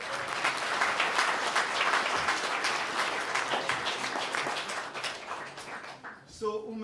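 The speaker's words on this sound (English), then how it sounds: "so big applause for Umesh." Applause from an in-person audience at a MySQL community live-stream event. A full room claps steadily, then the sound fades out as a voice starts speaking at the very end.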